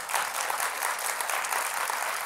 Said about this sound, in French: qu'on entend des gens applaudir